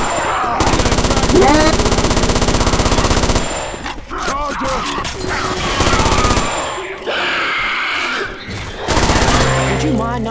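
Rapid automatic gunfire in a video game, loud bursts of machine-gun fire crackling continuously with brief pauses between volleys, with people talking over it.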